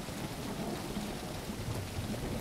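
Steady rain and low rumbling thunder in the video game Tribe Primitive Builder, a continuous wash of rainfall with deep rolls beneath it, evenly loud throughout.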